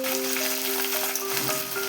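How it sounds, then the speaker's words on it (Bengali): Chopped onions fry in hot oil in a kadai until browned for biryani garnish, a continuous soft sizzle with faint steady tones underneath and no speech. "তারপরে আমরা বেরেস্তার জন্য পেঁয়াজটা ভেজে নেব"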